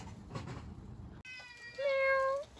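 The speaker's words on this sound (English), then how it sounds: "So here's the cat." A cat meows once, close and clear, in a quiet outdoor spot near Kikuchi Gorge in Japan, following a soft rustle and a brief gap.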